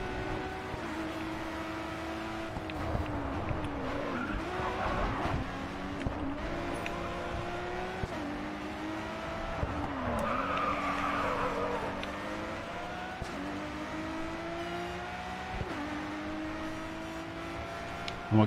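Race cars in the video game GRID 2 roar continuously, engines rising and falling through gear changes, with repeated tire squeals and skids.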